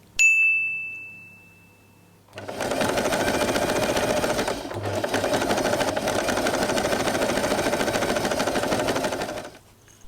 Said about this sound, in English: Sew a little to secure the ears.